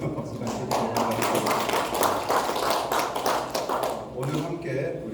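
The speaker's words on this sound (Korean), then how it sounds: "여러분 오늘 함께 박수가" An audience at a Korean Bible lecture claps together in a burst of dense, close applause that lasts several seconds, with faint voices mixed in.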